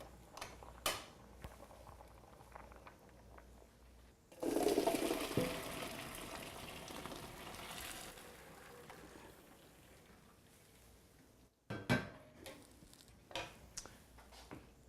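Cooked fettuccine pours into a colander in a kitchen sink, a rushing splash of water lasting a few seconds that trails off, set between soft clatter and handling noises.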